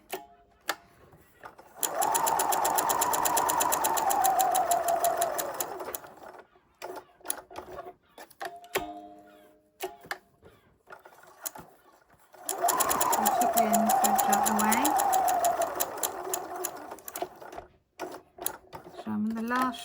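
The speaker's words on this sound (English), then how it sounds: "I'm going to sew until I get to that mark." A sewing machine stitches fabric scraps into a dolls house cushion in two long rattling runs of rapid, even needle strokes, separated by quieter clicks and handling noises as the work is turned.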